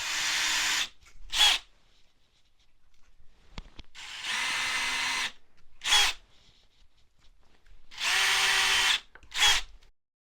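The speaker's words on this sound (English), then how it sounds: "So what I got to do is I got to start a pilot hole here." A power drill starting a pilot hole in wood for a stowable ladder build, three loud close whirring bursts each about a second long and followed by a short higher spin, separated by quiet pauses.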